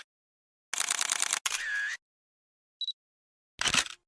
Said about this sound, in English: We'll now do shutters as transitions.